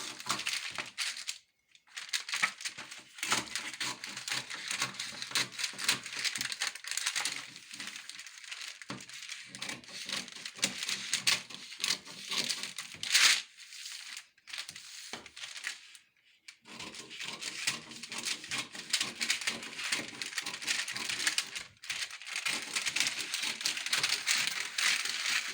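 Scissors cut through a brown paper sewing pattern in continuous crisp, rustling snips and crinkles, close and fairly loud, broken by a few short pauses.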